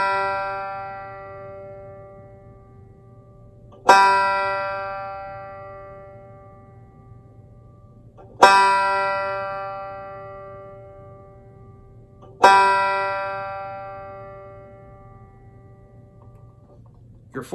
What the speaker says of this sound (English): The third string is a G,